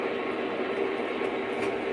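A model train led by a GP30 locomotive with a caboose runs steadily nearby, a continuous whirring rumble with faint clicking of wheels on track.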